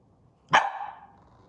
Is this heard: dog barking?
yes